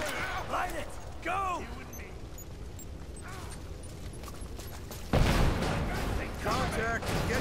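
Gunfire and explosions in the video game Rise of the Tomb Raider crack in scattered bursts, with a loud blast midway and echoing shots around it, while characters shout over the combat.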